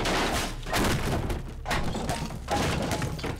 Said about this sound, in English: I like how you can punch the wood